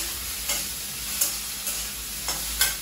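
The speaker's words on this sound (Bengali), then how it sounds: "এই যে আমি এটা দুধ দিয়ে গুলে দিচ্ছি, এটা দুধ দিয়ে দিচ্ছি।" A mixture simmering in a pan with milk and butter, a steady soft sizzle broken by a few sharp spatula taps and scrapes, fairly quiet and without speech.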